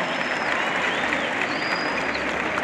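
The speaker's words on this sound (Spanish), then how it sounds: "fuerte el aplauso." A crowd at a Mexican bull riding tournament applauds in a sustained, even roar of clapping, with faint whistles rising above the steady mass of hands.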